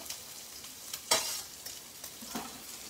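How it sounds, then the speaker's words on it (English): Garlic for carbonara frying in a pan, with a soft continuous sizzle broken by several sharp scraping stirs, one louder than the rest, close by and without talk. "I'm gonna go ahead and toss in the garlic"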